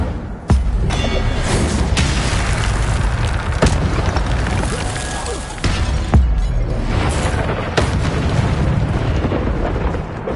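Incendio fire spells blast during combat in a Harry Potter video game, giving loud booming bursts and sharp explosive cracks over a dense, rumbling game soundscape, with several impacts spread across the clip.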